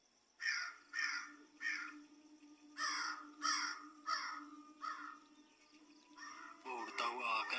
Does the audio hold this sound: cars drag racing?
no